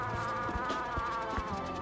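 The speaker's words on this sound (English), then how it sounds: "I have to bring this dude's pet bees home. He's just got bees on a leash." Steady, close insect-like buzzing from the pet bees kept on a leash in the video game Cozy Caravan, droning continuously with soft rhythmic game sounds beneath and no talking.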